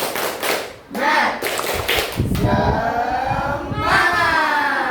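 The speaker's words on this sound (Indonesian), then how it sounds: "Tunjukkan semangat kalian dengan tepuk semangat." A class of schoolchildren doing tepuk semangat, a rhythmic clapping chant, in an Indonesian classroom: bursts of loud, close, patterned claps mixed with kids' voices chanting along.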